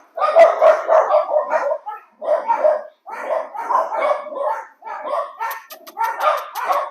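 Three household dogs bark in a rapid string of loud, close yips and barks, breaking into short bursts with brief pauses between them.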